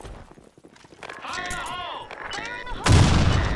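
A bomb goes off in the online shooter BlackShot, a sudden loud blast near the end, following a stretch of someone talking over game noise.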